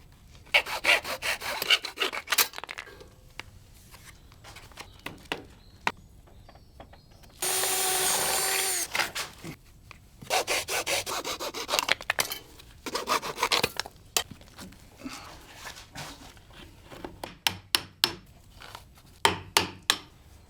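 A door frame is sawn by hand while an entrance door is being replaced. Quick, rasping saw strokes come in bursts with pauses between them, close and fairly loud, with a longer sustained stretch in the middle.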